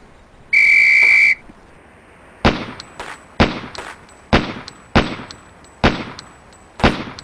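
A single loud, steady whistle blast of about a second opens a Police Quest SWAT shooting drill, followed by a series of sharp, evenly spaced gunshots at a range.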